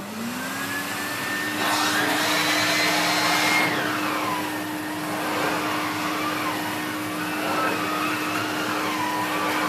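A Numatic Henry HVR200A vacuum cleaner set to low power spins up and keeps running as a steady, close whooshing drone with a constant motor whine, shifting slightly as it is moved, with no voices.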